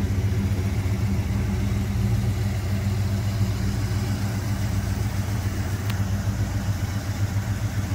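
A 1972 Pontiac GTO Judge muscle car engine idles steadily, a loud, deep, continuous rumble with a slight lope and no revving, heard up close throughout.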